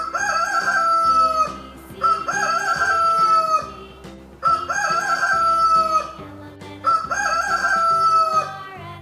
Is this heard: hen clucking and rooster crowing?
yes